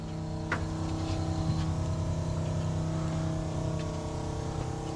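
Steady, droning mechanical hum from the fuel pump of a 1971 Plymouth Duster under test, a constant tonal whir with a couple of faint clicks, heard close and unbroken throughout.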